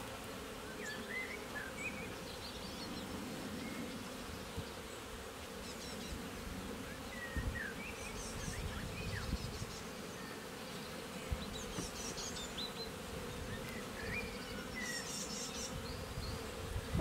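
Honey bees swarming around an open beehive while frames are moved, a continuous soft buzzing hum with individual bees passing close now and then, fairly quiet and steady throughout.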